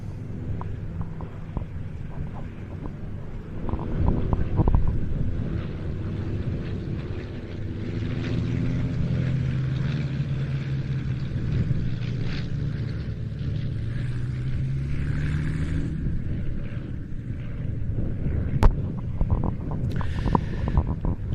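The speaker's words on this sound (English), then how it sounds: "coming in over the motorway are a delightful pair of de Havilland Canada Chipmunks" A pair of de Havilland Canada Chipmunk light aircraft flying in over a motorway, a steady low propeller-engine drone sustained throughout, fairly close and constant with slight swells in loudness.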